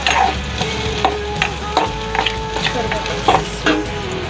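Onions browning as they sizzle and crackle in a hot pan, with the clink and scrape of a spoon stirring now and then over a steady low hum.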